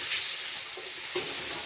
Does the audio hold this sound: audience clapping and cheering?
no